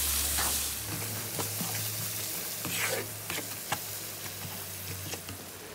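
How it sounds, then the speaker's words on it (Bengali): Tripe sautéing with turmeric and coriander powder crackles in a steady, moderate sizzle, with scattered scraping taps of a spoon stirring and a low hum underneath. "এই তো দিয়ে আমি জাস্ট এটা এখন ভালো মতো কষিয়ে নিব"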